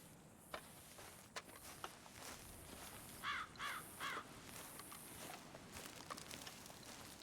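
Crows cawing in Red Dead Redemption 2: a short series of about three harsh caws mid-way, fairly faint against quiet outdoor ambience, with a few soft footstep-like thumps scattered before and after.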